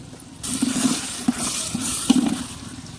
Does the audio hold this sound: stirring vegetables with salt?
yes